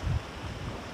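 Strong wind roars across the microphone in a steady, loud rumble with gusty buffeting, at an outdoor roadside stop near Kaybiang Tunnel, Batangas, with no voices heard.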